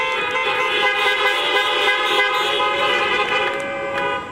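Several car horns honk together in a steady, loud, sustained chorus of overlapping tones, held for a few seconds as a drive-by greeting at an outdoor Shabbat service.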